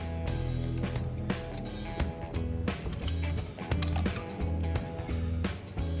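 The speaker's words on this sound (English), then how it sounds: "We're gonna use a C-clamp now because it passed the O-ring." A C-clamp presses an old brake pad against the caliper piston on a BMW E36 front brake, giving steady creaking and ratcheting mechanical groans with a low hum underneath.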